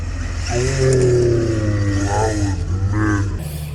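MST RMX Shakedown RC car fitted with a Bingo Wasp chassis driving outdoors, its small motor whining and revving up and down in rising and falling sweeps, fairly loud and close.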